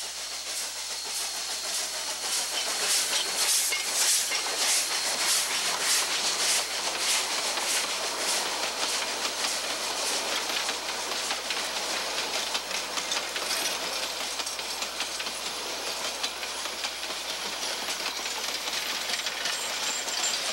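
K36 steam locomotive number 489 hauls a train up a grade on a narrow-gauge line, with a steady, loud hiss and rapid exhaust chuffing that holds constant throughout, no voices.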